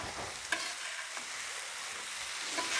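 Pork loin and Italian squash with zucchini cooking on a griddle, a soft even sizzle with a few light taps from flipping, fairly faint and without talking.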